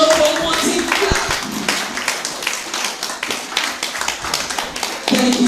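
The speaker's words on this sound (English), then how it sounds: "Let's give a locomotive clap for the organizer of this program." Rhythmic locomotive clap from an audience at a Lagos State first responders and health professionals event, a steady run of claps building through the room with a few sharper taps and voices mixed in.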